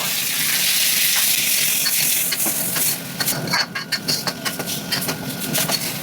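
Cut tomatoes hit hot oil with ginger, garlic and onions for ennai kathirikai kulambu, an aubergine curry. A loud, steady sizzle fades into quieter frying broken by repeated spatula scrapes and stirs.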